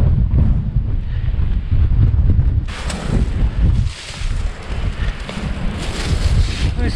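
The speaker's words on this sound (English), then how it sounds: "The wind's cold." Cold wind buffeting the microphone outdoors on a climb near an ancient walled village, loud low rumbling gusts that surge and ease, with brief lulls and airy rushing.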